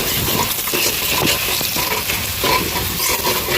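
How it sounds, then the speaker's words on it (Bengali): Spices with salt, turmeric, ginger and garlic fry in a pan for fish curry with tomato, giving a steady close sizzle with light stirring scrapes throughout and no talking. "তো মশলাটা ভালো করে ভেজে নেব"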